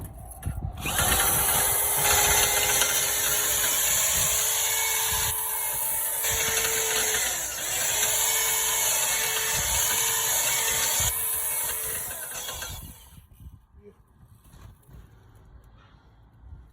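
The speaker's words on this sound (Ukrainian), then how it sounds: "Трос на прихваточки взяли, приварили, зажали в патрончик, на перфоратор маленький і працюєте." A small rotary hammer spins a steel cable to clean the chimney flue of a 21 kW RETRA-6M boiler, giving a loud, steady whir with slight pitch shifts for about twelve seconds before it cuts off, leaving faint handling noises.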